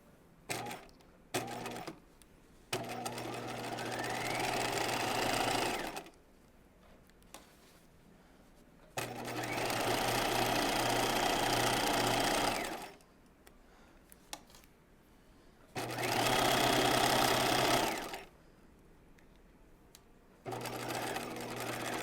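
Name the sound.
sewing machine stitching a seam at 5/8 inch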